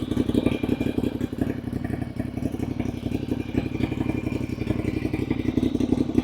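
A Ducati Diavel motorcycle engine idles loudly up close, a steady rapid chugging rumble with mechanical clatter that never lets up.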